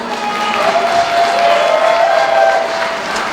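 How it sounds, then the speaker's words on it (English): An audience at a gala applauds with a continuous wash of clapping and some cheering, loud and sustained for the whole stretch. "Let's give Rise a round of applause."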